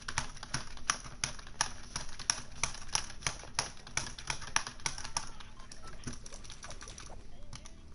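Rapid clatter of keys on a computer keyboard while editing during a game, a quick uneven run of clicks at close range that thins out near the end.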